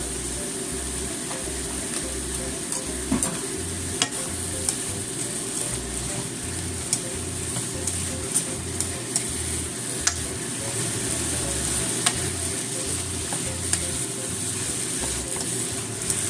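Sweet potato kinpira stir-fried in a pan, a steady close sizzle with scattered scraping and clicking as the pieces are tossed and stirred, running continuously without talk.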